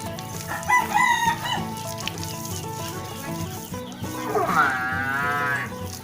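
A water buffalo bellows repeatedly while being milked on a village farm in Pak Phanang, southern Thailand. The long, loud, close calls blend with farmyard noise, and a rooster crows in the background.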